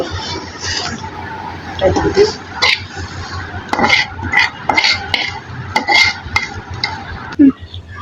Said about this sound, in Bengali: এখন ভর্তা বাটা শুরু করলাম